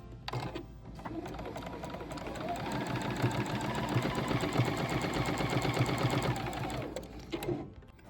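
A sewing machine runs steadily for several seconds, stitching down pleat markings on quilted fabric squares, a close, even mechanical whir with rapid needle rhythm that starts and stops cleanly, with no talking.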